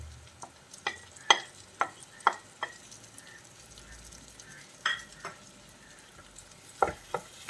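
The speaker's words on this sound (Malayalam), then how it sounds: "തക്കാളിയും കൂടി ചേർത്തിട്ട് നമുക്ക് വീണ്ടും ഒന്ന് വഴറ്റാം." Chopped tomatoes sautéing quietly in a pan for Kerala-style karimeen pollichathu, a soft sizzle broken by sharp, sporadic spatula taps and scrapes against the pan.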